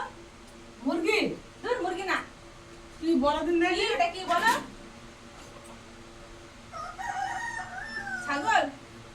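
A rooster crows outdoors in several drawn-out calls, moderately close, with quiet gaps between them.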